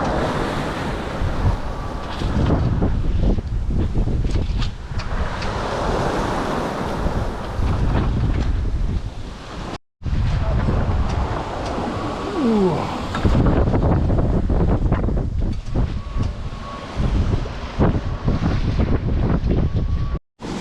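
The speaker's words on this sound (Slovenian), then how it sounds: "zdaj bo 1-2-3 dni takole fajn pihalo ali pa še bolj" Strong wind roaring across a sailboat at sea on the Red Sea, with waves rushing and splashing against the hull and heavy gusts buffeting the microphone, loud and continuous with a brief cut midway.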